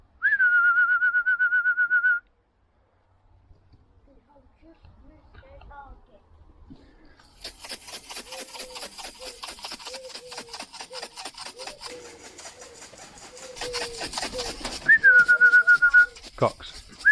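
Racing pigeons arrive back at the loft after a first race, with soft cooing and rustling, scraping movement over wood, framed by sustained whistle tones at the start and the end.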